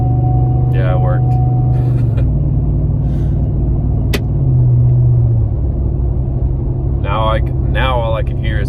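Road and tire noise from a 2015 Ford F-150 with a Thrush muffler, heard from inside the cab as a steady low rumble throughout. A voice talks over it in places.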